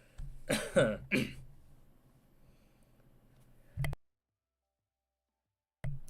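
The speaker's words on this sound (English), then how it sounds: "I thought I'd clear my throat without breaking your eardrums" A person clears their throat with two quick, rasping bursts close to the microphone, followed by near silence and a brief soft thump.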